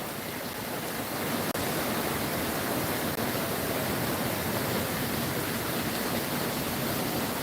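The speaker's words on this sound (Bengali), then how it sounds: "সমগ্র ঢাকায় বৃষ্টি হচ্ছে" Heavy rain pours over Dhaka as a dense, steady roar of broadband hiss, loud and unbroken, with no voices.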